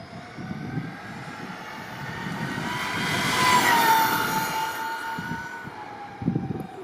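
A JLB Racing Cheetah Extreme 120A RC car whines past on a speed run, a rising then fading electric motor pitch that swells to a peak mid-clip and tails off under outdoor wind rumble.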